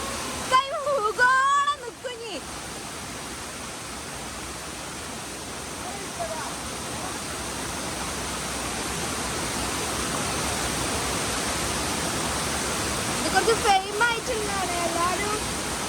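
A waterfall in Malappuram roars in a constant, full rush of falling water, steady and close, with a voice speaking briefly at the start and again near the end.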